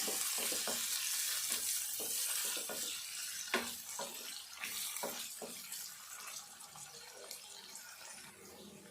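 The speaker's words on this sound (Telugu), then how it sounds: "ఫ్రై చేసుకోవాలి పసుపు వేసుకుందాము కలుపుకుందాము" Onions frying with turmeric in a pan for chicken curry, with a steady close sizzle and occasional stirring scrapes at an irregular rhythm, fairly quiet throughout.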